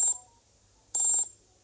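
A phone rings in two short electronic bursts separated by a pause, fairly quiet and alone in an otherwise still room.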